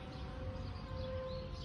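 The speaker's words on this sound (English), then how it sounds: "The sirens are loud today." A civil defense tornado warning siren blares steadily in Winnebago County, Illinois, a sustained loud wail holding one pitch with a broad rumbling wash beneath it and no speech.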